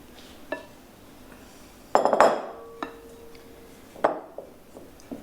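Cake batter for a Battenberg being scooped from one mixing bowl into a second, heard as a few sharp clinks and knocks of a utensil against the bowls, loudest in a short cluster in the middle, with faint scraping between the hits and no voices.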